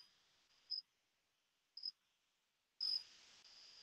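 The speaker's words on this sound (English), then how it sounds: "Also crickets." A few high-pitched cricket chirps sound faintly in a quiet setting: two short isolated bursts, then a louder chirp followed by a sustained trill at the end.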